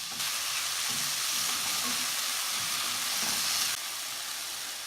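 Chicken and garlic sizzle and fry steadily in a hot pan, with a continuous close hiss and occasional soft stirring scrapes throughout.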